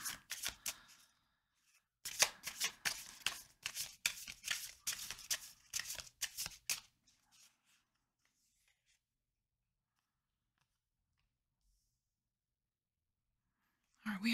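Oracle cards are shuffled close by in quick riffling bursts with a brief gap between them. The shuffling fades out into long silence.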